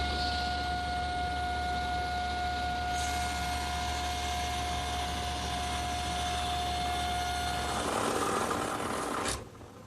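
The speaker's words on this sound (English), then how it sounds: "hold the rail tight to the table saw surface and against the fence and slowly" A table saw rips a curved wooden rail with a steady, loud motor whine and hum. The tone shifts briefly near the end before the blade cuts off abruptly.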